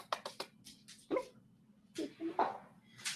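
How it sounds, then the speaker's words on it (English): A dog gives several short, soft yips and whimpers in a quiet indoor room during a live stream, scattered across a few seconds with pauses between them. "So, my dog's here."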